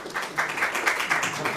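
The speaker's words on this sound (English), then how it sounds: "We got some applause here where Peter also applauded himself" A small group claps in quick, uneven bursts, including a man named Peter clapping for himself, fairly close and moderately loud, with no talking over it.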